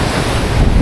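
Strong sea waves at a deep-water fishing spot with a strong current, a loud continuous surf roar mixed with heavy wind buffeting the microphone.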